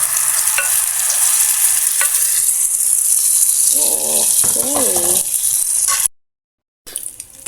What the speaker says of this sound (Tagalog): Prito na tayo. Ayan, meron na tayong pinainit na mantika.